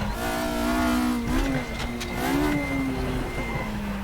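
A naturally aspirated race car engine in the RaceRoom hillclimb game revs steadily at high pitch toward 9,000 RPM, with loud sustained engine tone, rising and dipping through gear changes, no talking.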